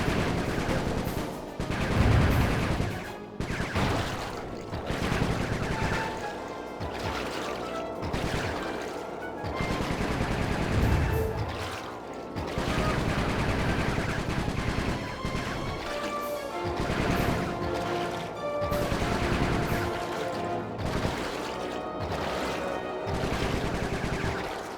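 Video game gunfire from Sly 3: Honour Among Thieves, dense and continuous, with rapid bursts and crashing impacts running throughout over layered game music and effects, no voices.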